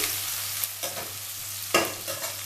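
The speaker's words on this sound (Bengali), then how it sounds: "তো আমি এটা একটু ভাজা ভাজা করে নিচ্ছি।" Green chilies fry in hot oil in a pan for a cauliflower and prawn dish, a bright steady sizzle broken by a few spoon scrapes and stirring knocks, close up with no talking.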